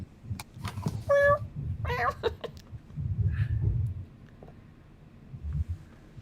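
A cat in the video game Life is Strange gives a few clear meows, close and fairly loud, over a low background rumble.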